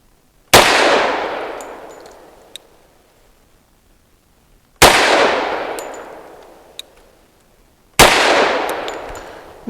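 Three loud, sharp pistol shots from a Century Arms Centurion 11 firing light Liberty Civil Defense 78 grain +P rounds, spaced several seconds apart, each cracking out then ringing into a long echoing decay, with faint metallic clinks between.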